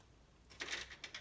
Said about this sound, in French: Alors je dessine un soleil.